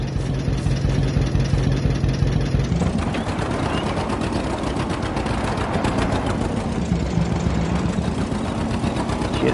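Tractor engine idling and running steadily in Farming Simulator 22 on a Somerset farm, a continuous close mechanical drone with a low throb that shifts pitch slightly after a few seconds, no talking.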